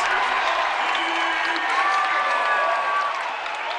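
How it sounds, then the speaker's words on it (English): Crowd at a varsity boys' high school basketball game, Lyons Township vs. Hinsdale Central, cheering and applauding loudly and steadily throughout, a dense roar of voices and clapping with whistle-like shouts. "Crowd is now hyping up."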